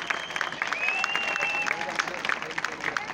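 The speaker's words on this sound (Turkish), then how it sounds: "Sevgili Feryat Erodabaşı için çok büyük bir alkış onun için de istiyorum." An audience bursts into applause for Feryat Erodabaşı, a dense wash of clapping with a high whistle-like tone sliding above it and crowd voices mixed in.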